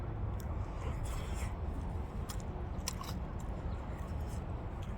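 Korean egg bread (gyeranppang), a soft bun baked with a whole egg, being chewed close to the mic in steady wet mastication with small bites over constant low room noise.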